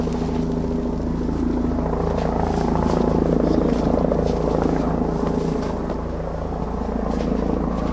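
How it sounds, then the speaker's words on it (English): A police helicopter flies overhead above a snowy forest, its steady loud rotor drone and engine hum filling the air continuously without letup. "What's up with this chopper?"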